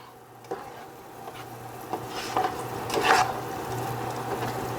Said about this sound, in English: I used that all in here with the butter to saute this, caramelize this.